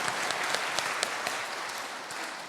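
Congregation applauding at a Korean church prayer meeting after a drama performance, dense sustained clapping from a large crowd with individual sharp claps popping out, no voices.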